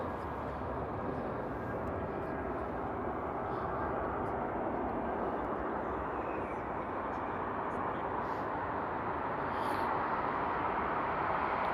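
A jet landing at Frankfurt Airport at night gives a steady, broad engine roar that holds for about twelve seconds, distant but continuous, swelling slightly toward the end.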